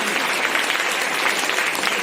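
At a school costume event, children and the audience clap in dense, steady applause that fills the whole stretch.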